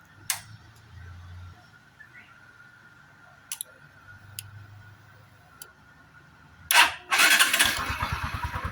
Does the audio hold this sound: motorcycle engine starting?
yes